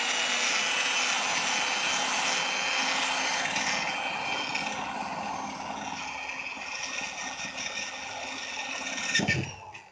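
A power drill bores with a smaller bit around an existing hole to widen it for mounting an aftermarket spoiler on a 1998 Mitsubishi Eclipse GS. The whine and grinding run steadily and close, easing off slightly before a brief knock near the end.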